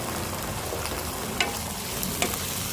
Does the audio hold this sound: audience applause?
no